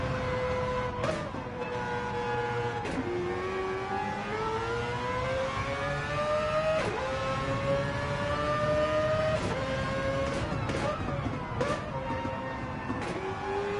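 A race car engine in a racing video game drones continuously and loudly, its pitch climbing steadily, dropping briefly at each gear shift, then rising again, with no voices over it.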